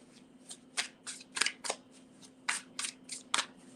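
Tarot cards shuffled close by, about a dozen crisp riffling flicks in an uneven rhythm over a faint steady hum, with no voices.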